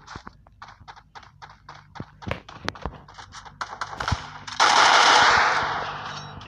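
Rapid automatic gunfire from the battle royale game Free Fire, bursts of shots building into a loud, sustained roar of fire near the end, with no talk over it.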